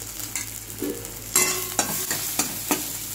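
Spices spluttering in hot oil for a prawn and potato curry, a close bright sizzle punctuated by sharp pops and spoon scrapes at an irregular pace, with no voices.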